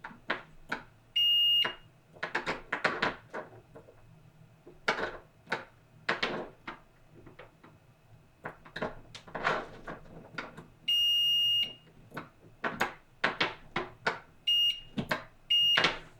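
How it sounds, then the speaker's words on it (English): A handheld multimeter in continuity mode beeps while probing a homemade splitter cable, giving short steady tones at about 1.5, 11 and 14.5 seconds amid clicking and handling noise of the probes and cable. "we could take out our multimeter, which I'm gonna do, and test the cable"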